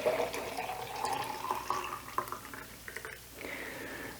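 About a liter of homemade oat milk poured into a jug, a gurgling, splashing pour with rising liquid tones and drips, fairly close and without talk.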